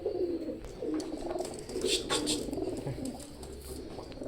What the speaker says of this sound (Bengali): স্ক্রিনে যে দুটো কবুতর দেখছেন এই দুটো হচ্ছে একশো আঠাশ নম্বর টেডি